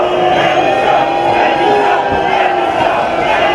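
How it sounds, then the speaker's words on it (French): A large outdoor crowd on the Promenade des Anglais in Nice boos and jeers at the Prime Minister. The roar is loud and continuous, with shouted voices rising out of the mass of noise. "le Premier ministre est conspué"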